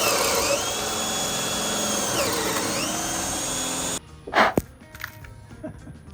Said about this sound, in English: got all our holes drilled for our LED wiring despite all the nails in our way